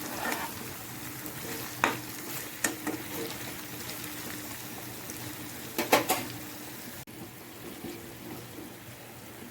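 A chicken fry piece biryani mixture is stirred in a pan, giving a low background sizzle with several sharp scraping knocks of the spoon scattered throughout, close and moderately quiet, with no talking.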